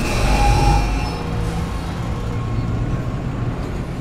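A tram rides to flight deck tram control in the Dead Space Remake, giving a steady low mechanical rumble and drone that holds level throughout, with no other sounds over it.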